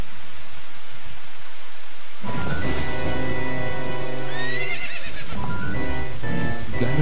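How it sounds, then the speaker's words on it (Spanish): A horse neighs in the Zelda: Ocarina of Time video game. A loud, tonal whinny rises out of steady rain and music after a quiet opening, followed by shorter snorting calls near the end. "Sale Zelda con un pedazo de caballito blanco"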